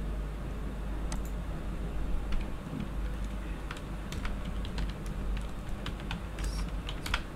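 Keys clack sporadically on a computer keyboard while text is entered in Microsoft Word 2010, scattered individual taps over a steady low hum, moderately close with no talking.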